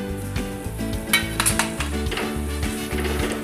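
About 100 grams of semolina roasting in ghee in a pan, stirred steadily with a spoon, giving a continuous close sizzle with scraping strokes beneath loud background music.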